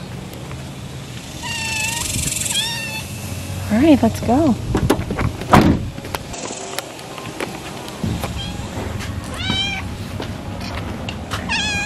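A kitten meows repeatedly in high, wavering cries as it is carried into a new home, close and clear amid rustling and handling noises, with people talking around it.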